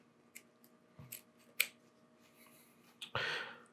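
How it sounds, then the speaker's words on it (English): Kitchen shears trimming loose ends off a beef tenderloin, a few sharp, close snips spaced irregularly in a quiet kitchen, ending with a brief louder rustle. "we'll just trim off these little loose ends with my shears here"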